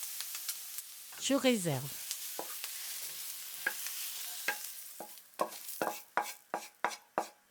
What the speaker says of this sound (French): Je mets le poireau. Je remue pendant 2 minutes.